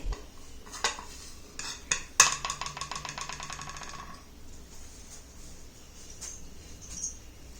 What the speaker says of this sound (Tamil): இதில் வந்து நான் வந்து ரோஸ் வாட்டர் வந்து மிக்ஸ் பண்ணுறதுக்காக கலந்துக்கிட்டேன்